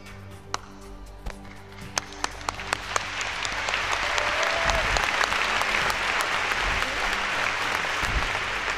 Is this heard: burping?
no